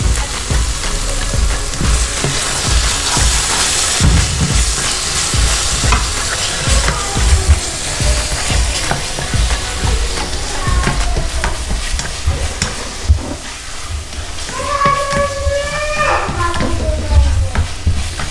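Masala spices sizzle steadily in a hot pan while a utensil scrapes and stirs, with clinks of metal against metal; close and fairly loud, no talking.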